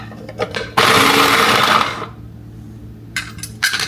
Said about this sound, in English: it's kind of mashing up my tomatoes